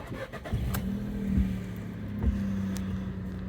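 A car engine idles with a steady low hum, accompanied by a few faint clicks and thumps nearby.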